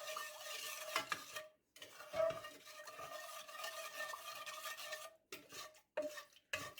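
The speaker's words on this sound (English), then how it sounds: "So now we are just going to stir this and we are going to let it come to a boil on medium-high heat" A spoon stirs a jelly mixture in a pot on the stove, close scraping and swishing strokes in an uneven rhythm, broken by a few short pauses, with no talk.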